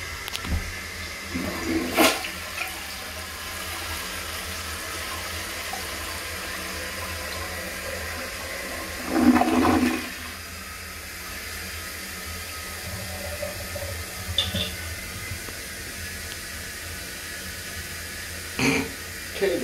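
Toilet in a men's restroom at a music center flushing, a brief watery surge midway through a long stretch of steady hiss and faint room noise, with a few short knocks and rushes scattered around it.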